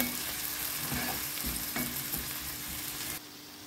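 Tomatoes and chopped green peppers fry with garlic in a pan, making a steady, close sizzle with a few soft stirring scrapes, dropping slightly in level just before the end.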